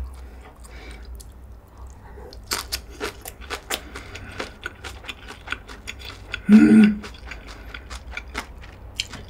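Crisp crunching bites of napa cabbage kimchi during a mukbang, rapid close crackles and snaps in an irregular rhythm, with one louder bite and a brief murmur of a voice.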